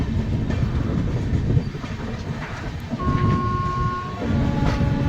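The 12343 Darjeeling Mail passenger train runs on rails through heavy fog near Aluabari Road Junction, heard from inside as a loud, steady rumble with rhythmic wheel clatter, and a brief tonal whine partway through.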